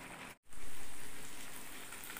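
Fish and chicken curry with ground white and black mustard seed simmers in a covered pan, giving a steady soft sizzle and bubbling hiss after a brief gap, with no talk.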